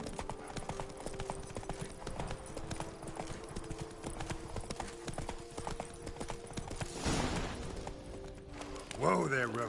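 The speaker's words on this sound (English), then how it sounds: "Whoa there, Roach." Horse hooves clip-clop at a steady gallop in the video game Witcher 3, a constant rhythmic thudding under game music, with a voice speaking near the end as the horse is reined in.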